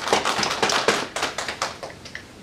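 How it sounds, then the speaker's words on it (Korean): A church congregation claps together after a prayer at a Korean service, a dense burst of many hands applauding close and fairly loud, fading near the end. "축복의 박수하겠습니다."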